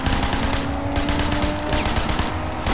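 Dense, continuous gunfire rattles in the video game Sleeping Dogs, forming a loud, unbroken barrage with no talking over it.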